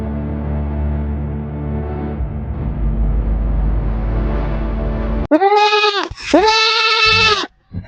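A goat gives two loud, wavering bleats close by near the end, after several seconds of steady broadband background noise on a rural Bangladeshi farmstead.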